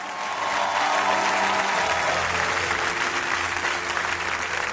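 A church congregation applauds and cheers for Jesus during a French-language sermon, a dense, sustained wave of clapping from a large crowd that swells and holds for several seconds.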